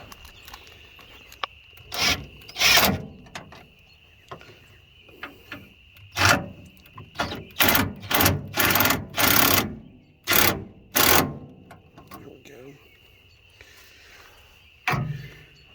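Radiator bolts on a 1986 Dodge Ramcharger being run down with a socket wrench, heard as a series of close, short ratcheting bursts in uneven clusters, separated by quiet gaps.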